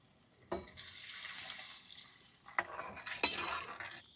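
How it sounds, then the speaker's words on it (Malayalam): Water splashes into a cooking pan during home curry preparation, two separate pours with a hissing rush and a metallic clink near the end, close and clear against a quiet kitchen. "പിന്നെ വെള്ളം ഒഴിച്ച് കൊടുക്കാം"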